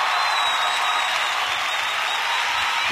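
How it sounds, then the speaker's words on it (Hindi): A crowd claps in steady, dense applause that holds at an even, loud level throughout. "जोरदार तालियां"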